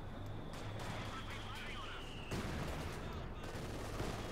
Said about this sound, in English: Double mortars.